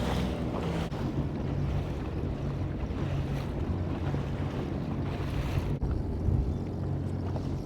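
A Sea-Doo Fish Pro jet ski running on the open sea, its engine drone blending with steady rushing wind buffeting the microphone and waves slapping the hull, loud and continuous throughout.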